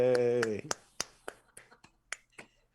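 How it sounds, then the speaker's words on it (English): A few people clap in a small room, with about eight sharp, sparse claps spaced unevenly after a cheering voice fades, close and fairly quiet. "3 people clapping, which is like a sound of a million when they care"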